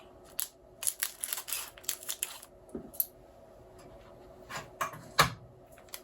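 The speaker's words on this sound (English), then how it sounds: "ooh, I actually have some scissors." Scissors cut through packaging during a model-kit build of the Knight Rider KITT car, giving a run of short, crisp snips and crinkles close by, with a sharper snap near the end.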